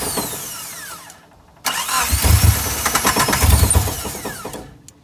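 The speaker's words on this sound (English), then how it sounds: "I'm gonna crank it, and you guys are gonna see that it just kind of sputters, turns on" The engine of a four-door mini off-roader, which cannot idle, cranks with a whirring rattle, briefly goes quiet, then sputters into a rough, loud running chug with uneven pulses before dying away.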